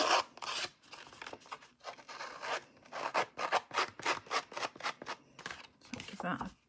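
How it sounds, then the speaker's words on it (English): Scissors snipping and scraping along the edge of a paper card to roughen it, a quick run of close, crisp rasping strokes with brief pauses, while someone talks quietly over the cutting. "I'm just going to grunge up the edge a little bit with the scissors"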